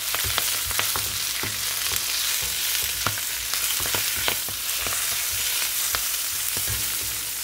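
Chicken quiche filling with salt and black pepper is stirred in a hot pan, giving a steady close sizzle and frying hiss broken by repeated spatula scrapes and taps.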